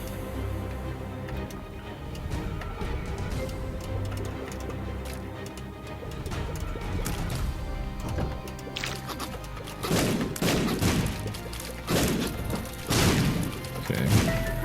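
Sharp bursting explosions from bombs in The Binding of Isaac, several thumps in the later half over looping game music and scattered sound effects.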